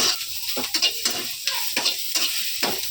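Onion frying in a pan for a mutton-style gravy, a steady close sizzle broken by rhythmic scraping strokes of a spoon stirring, about six strokes over a few seconds.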